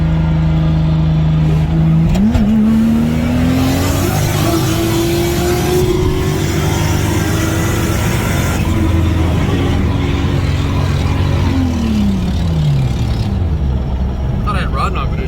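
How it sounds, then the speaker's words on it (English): V8 car with a poor exhaust idling and revving at a drift track, a loud close engine drone that rises, holds and falls away, with people talking over it. "I thought I had rod knock, but it was just the sound of his really crappy exhaust"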